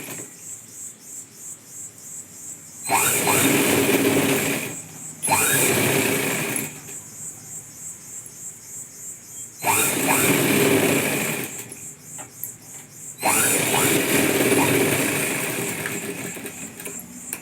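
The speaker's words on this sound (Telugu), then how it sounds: "ఇవి రెండు కలుపుకొని ఒక స్టిచ్ వేసుకుందాం." A sewing machine stitches two fabric pieces together for a puff sleeve in bursts of rapid mechanical whirring, each a few seconds long and separated by quieter pauses, close up with no talking.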